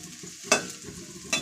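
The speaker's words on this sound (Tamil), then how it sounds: "வெட்டி வச்ச வெங்காயத்தை சேர்த்துக்கிறோம். நல்லா வதக்கிக்கிறோம்." Chopped onions sautéing in a pan for egg parotta: a low, steady sizzle with two sharp stirring scrapes, close by and fairly quiet, with no talking.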